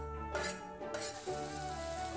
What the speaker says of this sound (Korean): 이제 팬에 기름을 넉넉하게 둘러주고 방금 채 썰어준 대파로 파기름을 내줍니다.